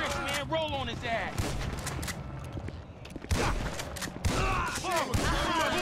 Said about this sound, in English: This is just a shooting at this point.